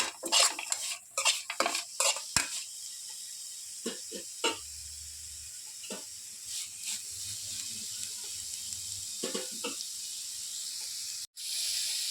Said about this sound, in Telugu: నెయ్యిలో ఫ్రై అవుతుంది క్యారెట్ అంతా ఫ్రై అవ్వాలి బాగా